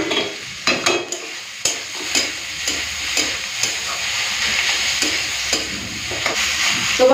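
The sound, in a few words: spatula stirring frying radish with prawns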